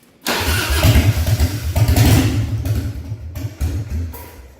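A warmed-up 1998 Harley-Davidson Fat Boy engine cranks and fires up, settling into a loud, lumpy rumble close by, with a few throttle blips near the end.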